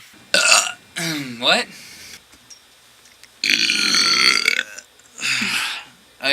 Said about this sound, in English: I'm sorry, I had to burp.